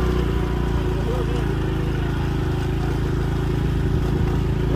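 A motorcycle engine drones loud and steady on a rural road between Guarabira and Pilõezinhos in Paraíba, its mid-pitched rumble constant and close, with a voice talking faintly underneath.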